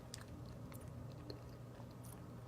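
Someone chews an RX bar protein bar with almonds, giving soft, close, irregular crunching and biting noises, with occasional sharper crackles from the nuts, quiet and alone without talk.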